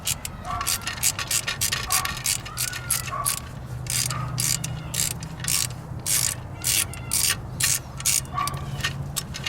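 Ratchet wrench with a 16 mm socket loosening the center bolt of a belt tensioner on a Dodge Grand Caravan or Chrysler Town and Country, giving rapid close clicking bursts in repeated strokes while someone talks over it.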